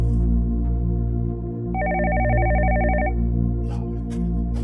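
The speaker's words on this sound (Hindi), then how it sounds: "एक और फोन आ गया।" A telephone rings in an office scene of a Pakistani drama, one electronic trilling ring lasting just over a second over a low background music bed.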